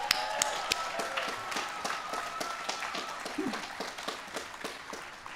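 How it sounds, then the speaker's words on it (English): An audience at a college commencement ceremony claps, with distinct, fairly sparse hand claps rising faintly from a hushed background. "How about applause for them?"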